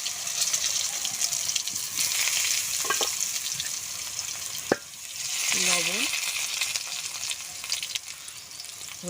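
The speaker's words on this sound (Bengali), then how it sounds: "উচ্ছে ভাজা তেলের ভেতরে বেগুনটাও ভেজে নেব।" Eggplant slices fry in oil left over from frying bitter gourd, giving a constant crackling sizzle with a few clinks and scrapes from a utensil partway through. No one speaks.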